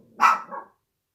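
A single close, sharp dog bark with a short trailing yip, alone and loud.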